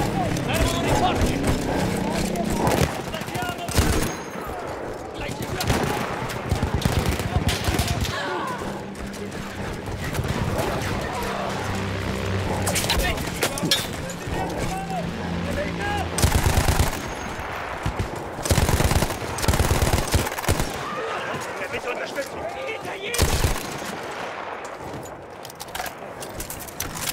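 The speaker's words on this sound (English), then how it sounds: "Quel cannone antiaereo sta abbattendo i nostri bombardieri!" Rapid bursts of anti-aircraft gunfire pound through a Battlefield 1 battle, with repeated loud firing under and between voices speaking, plus music and clattering combat noise.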